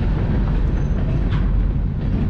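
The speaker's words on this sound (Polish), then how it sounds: "Teraz pociąg dystrybucyjny." A distribution freight train passing, a steady loud rumble and rolling rail noise with no break, dense and close throughout.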